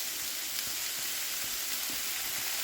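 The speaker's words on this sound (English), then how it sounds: "onion is softening, jackfruit is sizzling away" Jackfruit and onion sizzle in a pan with a steady, close hiss of frying and a few faint pops, continuous with no talking.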